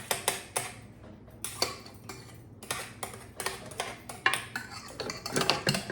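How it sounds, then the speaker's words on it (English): A spoon clinks and scrapes against a bowl and cupcake pan while pineapple upside-down cupcake batter is scooped in, giving irregular close metallic taps and scrapes with short pauses and no talking. "And we're going to spoon the batter in."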